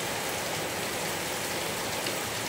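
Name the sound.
heavy rain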